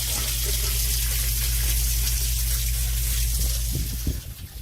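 A half-horsepower Liberty sump pump runs in a yard drainage system, its low motor hum under a steady gush of discharging water, with a few brief knocks near the end.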